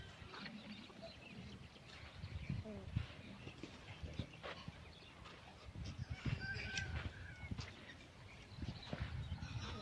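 Ducks quack and honk in scattered bursts outdoors at a natural waterside spot near mountains, mixed with rustling and distant background noise, with a few voices faintly in the mix.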